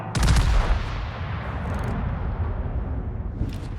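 The main guns of the cruiser Michelangelo fire in World of Warships in a loud opening salvo, and a long rumbling roll trails off behind it.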